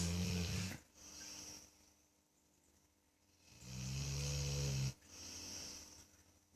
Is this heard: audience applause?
no